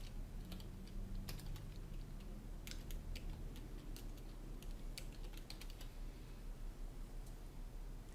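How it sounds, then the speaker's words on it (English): Steady keyboard typing fills the whole stretch, a dense run of quick clicks at a close, even level with a low background hum and no voices, as a presentation title is keyed into PowerPoint. "we'll type the title of our presentation"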